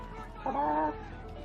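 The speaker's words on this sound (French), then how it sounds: "Et y'a des poulets." A chicken in GTA V clucks once, a short burst of clucking in the middle of a quiet, low background.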